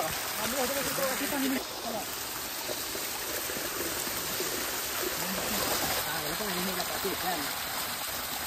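Steady rushing water from a nearby waterfall on a Sahyadri mountain trek fills the whole clip, with voices talking over it.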